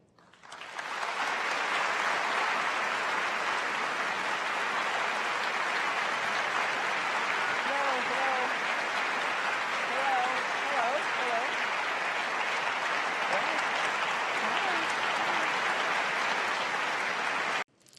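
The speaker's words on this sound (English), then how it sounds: "we've asked the audience here not to slow things down with any applause, except for now" A debate hall audience bursts into long, sustained applause for the 2016 Republican and Democratic presidential nominees, a steady dense roar of clapping that holds evenly for many seconds before cutting off, with faint voices beneath it.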